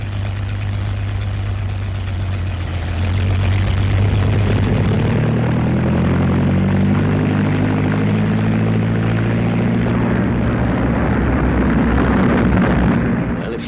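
Propeller-driven test aircraft from a 1939 film soundtrack take off, several engines droning loudly and steadily, their pitch rising and shifting as the planes climb away, with no talk over the roar.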